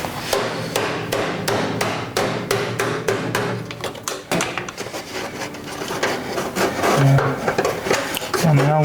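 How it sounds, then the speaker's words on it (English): A hammer strikes a motorbike tyre part during tyre removal, a rapid run of sharp metallic blows close by, then scraping and rubbing noises, with a voice murmuring near the end. "It's me hammer."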